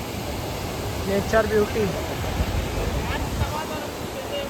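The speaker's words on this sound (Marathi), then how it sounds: "इकडनं खालती जातोय धबधबा" A waterfall pours down from just below a lookout at its top, a steady broadband rush with someone talking over it.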